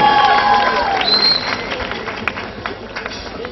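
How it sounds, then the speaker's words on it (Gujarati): An audience at a Gujarati stage play applauding with steady clapping that gradually thins and fades, with some tonal sounds over it early on. "તાળીઓના ગડગડાટથી વધાવશો"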